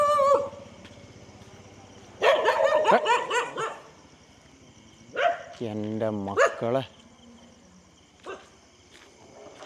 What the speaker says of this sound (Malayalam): മോനെ 3 നായി എന്താ അങ്ങവിടെ